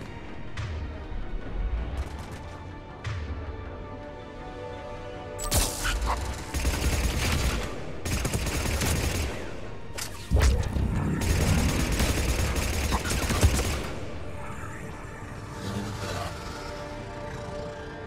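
Sustained gunfire in the Mass Effect 3 video game, with dense bursts of automatic shots and heavy booms over a game soundtrack, coming in waves with brief lulls between them.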